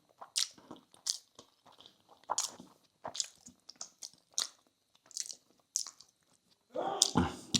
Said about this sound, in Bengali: পটলের তরকারিটা দিয়েই খাই।